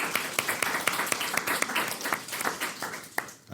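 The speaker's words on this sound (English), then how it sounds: "Can we get another round of applause for that?" A small audience claps for a few seconds at a talk on doom and death meditation, steady mid-distance applause with scattered sharper claps, fairly quiet and unaccompanied by speech.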